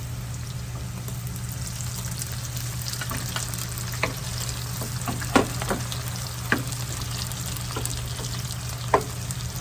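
Tomatoes and onions sautéing in a pan for ginisang ampalaya with pork, giving a steady close sizzle with a low hum underneath and a few sharp spatula scrapes and clicks, no talking.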